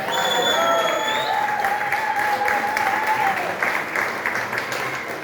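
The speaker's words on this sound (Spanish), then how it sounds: "un aplauso para Tochi Barrio." A crowd at a folk music peña applauds for accordion player Tochi Barrio, sustained dense clapping with lingering instrument tones at the start and light cheering mixed in.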